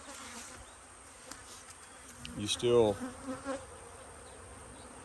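Honey bees hum faintly at an apiary, one buzzing close by and swelling briefly in the middle, with a few quiet spoken words.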